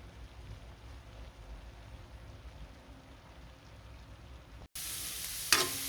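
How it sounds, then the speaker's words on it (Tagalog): Ginger, garlic and onion sautéing in a pan for Bicol-style bopis, a soft continuous sizzle that steps up abruptly to a louder, brighter hiss near the end. "nag-isa tayo ng luya, bawang, sibuyas"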